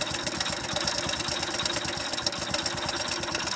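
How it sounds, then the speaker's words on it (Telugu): A motorcycle engine idles with a rapid, steady knocking pulse from a worn connecting rod inside, heard close and continuous with a rattly mechanical edge and no talk. "అదే అనమాట మనకు ఇంజన్ లోపల కనెక్టింగ్ రాడ్ సౌండ్ అనేది"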